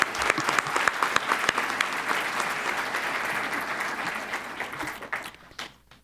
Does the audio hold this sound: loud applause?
yes